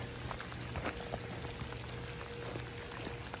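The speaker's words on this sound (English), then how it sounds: "It's been raining for the last hour. Steady rain." Steady rain patters continuously, a dense hiss of drops with scattered louder splashes, fairly quiet and unbroken throughout.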